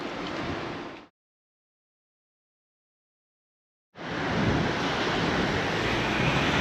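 Indian Ocean surf and wind on a South African coast, a loud continuous roar of breaking waves with microphone wind buffeting, cutting to silence for about three seconds before the surging rush returns.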